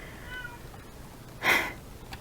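A cat gives a single short, clear meow close by, with near silence before and after.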